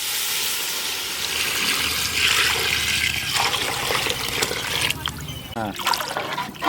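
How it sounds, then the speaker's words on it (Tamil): Plain water pours steadily into a cooking pot for rice and lentil rice, with a gushing, splashing rush that shifts in pitch as it fills, ending in a few clinks. "பச்சை தண்ணி ஊற்றிக்கிடுவோம்"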